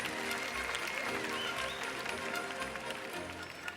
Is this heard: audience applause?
yes